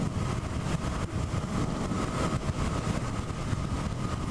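Steady broadband wind and road roar with a faint motor whine from a Zero SR electric motorcycle cruising at 60 mph in eco mode, loud and continuous with no talking.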